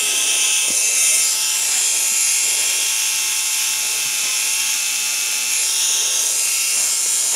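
A Marathon electric nail drill runs steadily at its lowest speed setting while filing a natural fingernail, giving a continuous high-pitched whine with faint shifts as the bit touches the nail.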